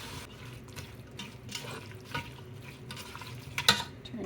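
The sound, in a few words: stirring shrimp chilli sauce with bourbon and vinegar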